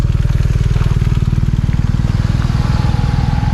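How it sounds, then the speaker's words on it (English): Motorcycle rumbling close by on a scenic mountain road in the Dolomites, its engine giving a loud, steady pulsing idle-like throb with a slight clatter throughout. "We got these motorcycle guys here."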